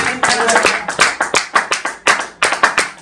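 A church congregation claps in worship, sharp close hand claps in a quick, steady rhythm of about a dozen beats, loud and alone.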